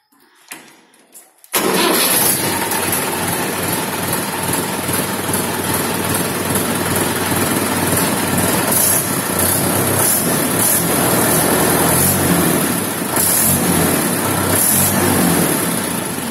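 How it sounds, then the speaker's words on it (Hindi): A Mahindra 575 tractor engine cranks and catches after a brief quiet start, then runs at a loud, steady diesel idle right up close for the rest of the clip. "ट्रैक्टर की आवाज दिखाऊंगे अभी आपको"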